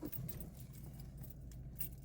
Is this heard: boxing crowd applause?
no